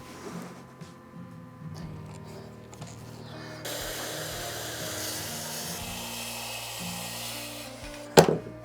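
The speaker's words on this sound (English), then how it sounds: "So we're gonna be using the skill saw." A handheld circular saw cuts through wood with a loud, steady buzzing whine for several seconds, then stops and ends with a sharp knock nearby.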